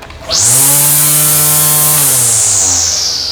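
An Ozito 36V cordless 300mm line trimmer revs up from quiet to a loud, steady high-pitched whine that holds for about three seconds, its motor tone dipping slightly near the end, close and alone.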